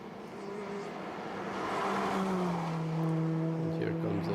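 Race cars in a touring car event sweep through the hospital turn on the Riga circuit, engines droning and rising in pitch as they pass, heard steadily under a commentator's voice.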